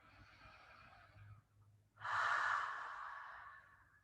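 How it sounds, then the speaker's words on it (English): Slow, audible breaths in and out, close and soft: a long exhale, a short pause, then a deeper breath drawn in. "Breathe in and out on each number very slowly."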